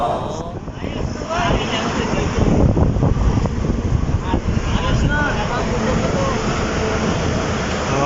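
Strong wind buffets the microphone outdoors at a billboard tarpaulin installation site in Mapulang Lupa, Valenzuela, a steady low roar running through the whole stretch with voices faintly underneath.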